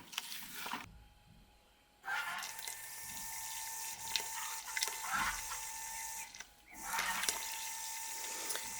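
Tap water runs steadily into a vessel while preparing about 25 litres of brewing water for a milk stout, a continuous hissing splash that stops briefly twice, then resumes.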